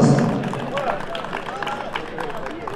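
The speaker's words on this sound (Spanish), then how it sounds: "Al señor secretario de deporte, Lenny Lázaro Lazo, vengan los aplausos" Ceremony audience applauding a named official at a central event in a convention hall, a dense crowd clap with babble mixed in, strongest at the start and holding steady throughout.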